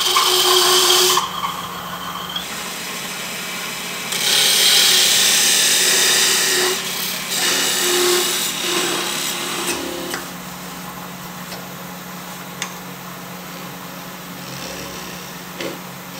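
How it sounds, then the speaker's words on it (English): Narrow parting tool cutting into wood on a spinning lathe, a close high-pitched whine and hiss that starts and stops in several bursts over the steady motor hum. "I'm going to take a narrow parting tool and just take off this little bit of wood here"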